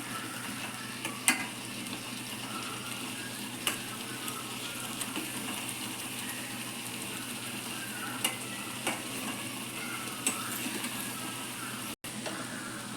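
Egg curry masala fries in a pan under a constant, moderate sizzle while a spoon stirs it, giving occasional sharp clinks against the metal over the even hiss; no one speaks.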